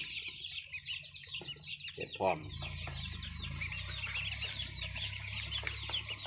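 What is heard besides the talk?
Rhode Island Red laying-hen chicks clucking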